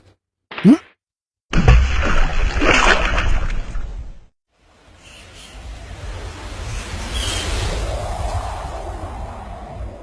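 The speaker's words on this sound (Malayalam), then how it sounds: "ഈ വെള്ളം എന്തുണ്ട്? അതിവിടെ കള, വെറുതെ ഏറ്റുപിടിച്ച് നടക്കണ്ടല്ലോ." Water thrown out from a container onto the ground outdoors, a sharp splash and pour after a brief silence, followed by quieter walking and ambient outdoor noise.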